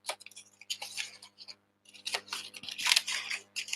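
Scissors snipping paper during a craft session, a quick series of crisp close cuts in bursts with a short pause midway, no talking.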